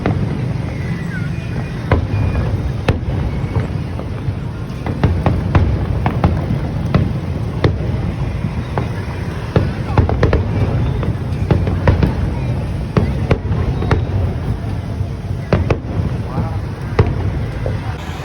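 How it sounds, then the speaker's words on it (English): Lunar New Year fireworks burst over Saigon in a continuous crackling barrage of sharp pops and bangs, layered over a dense outdoor crowd rumble and wind noise, with voices mixed in. "I rushed off to see the fireworks."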